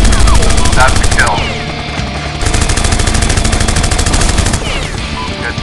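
Sustained machine gun fire rattles loudly and steadily in the iPad game AirHound, dipping briefly before resuming, with engine drone and whooshing effects mixed underneath.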